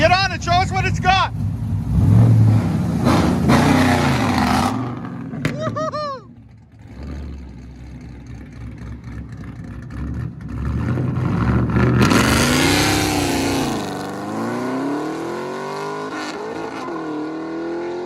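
A 2010 Chevy Camaro SS with a cammed 6.2L V8, long tube headers and true dual exhaust revs loudly and close, rising and falling engine pitch in several bursts, with people talking in between.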